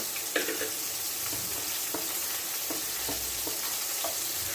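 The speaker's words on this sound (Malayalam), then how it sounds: "എണ്ണ തെളിയുന്നത് വരെ വഴറ്റി വെക്കണേ." Masala paste sizzles steadily in oil in a pan for a tuna kudampuli chili curry, with intermittent spoon scrapes as it is stirred, close and continuous.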